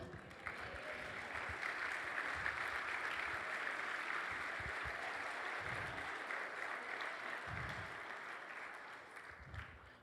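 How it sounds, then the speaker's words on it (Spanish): A church congregation at a Sunday service claps steadily together in sustained applause that fills the space without pause, with a few low thumps and rustles underneath and no one speaking over it. "La gloria para el Señor y el aplauso también para el Señor."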